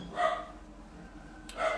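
A small female dog barks twice, a short bright bark near the start and another at the end, against a quiet indoor room with a faint hum.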